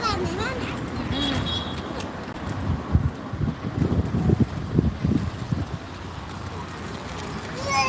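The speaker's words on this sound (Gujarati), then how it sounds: "બહુ પવન ચાલે છે" Strong wind buffets the microphone in a steady roar, with low rumbling gusts and some faint voices and background activity, while many birds fly about.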